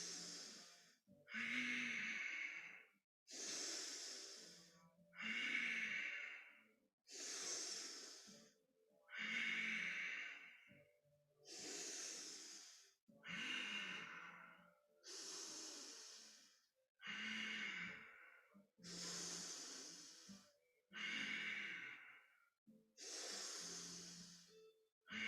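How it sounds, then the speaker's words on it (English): A person breathes long and deep through the nose during a kundalini yoga kriya, about eleven slow, close, airy breath cycles with brief pauses between them, and no talking. "Breathing through the nose, long and deep."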